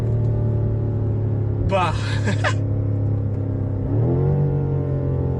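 A BMW M5 engine rumbles loud and close from inside the cabin, swelling as it revs under acceleration, with brief speech and a gasp over it.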